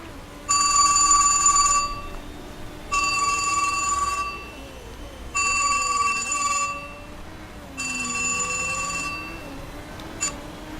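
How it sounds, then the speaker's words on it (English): An incoming call rings on a telephone, four evenly spaced bursts of electronic trilling, each about a second and a half long with short pauses between, loud and close over a low murmur of background noise. "I had a phone call coming in"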